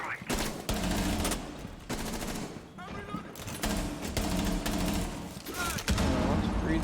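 Rapid bursts of gunfire from a shooter video game, sustained volleys and machine-gun rattle with thuds, loud and continuous with brief gaps, under gameplay audio.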